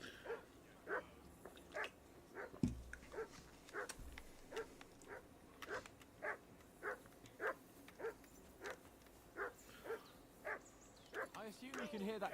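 A dog in the video game Kingdom Come Deliverance 2 barks repeatedly at a steady, regular rhythm, sounding moderately distant, while a faint voice speaks briefly in the background.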